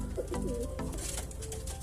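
A ringed domestic pigeon, injured and unable to stand properly, coos in low, repeated throaty calls under a steady wash of background noise.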